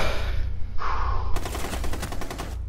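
Light machine gun fire in Rainbow Six Siege gameplay: a loud, rapid burst of automatic shots rattling in a dense stream, preceded by a brief sharp noise.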